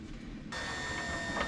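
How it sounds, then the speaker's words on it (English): An electric screwdriver backs screws out of a Maxxair RV roof fan during a circuit board and motor replacement, a close, steady motor whir starting partway through after a quiet moment. "When you're using an electric screwdriver, it's always good to go slow."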